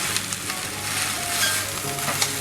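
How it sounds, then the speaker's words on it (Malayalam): Washed flattened rice (poha) tipped into a hot pan over onions, giving a loud, steady sizzle with soft stirring scrapes and a few small clicks throughout. "അതിലേക്ക് നമ്മൾ ഈ കഴുകി വെച്ചിരിക്കുന്ന അവലും ആണ്"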